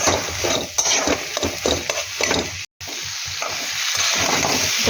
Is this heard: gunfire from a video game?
no